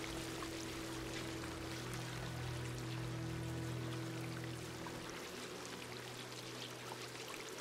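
Running water in the video game Stray, a steady pouring stream with a trickling wash, moderately loud and continuous with no talking.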